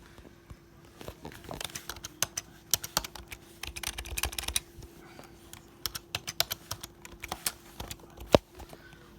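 Rapid typing on a Logitech MK250 keyboard, quick close clicks in uneven bursts with short pauses, loud and alone.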